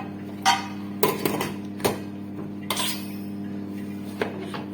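A pressure cooker lid clanks shut during a mutton biryani cook, giving a few sharp metallic knocks and clinks spread over several seconds above a steady low stove hum.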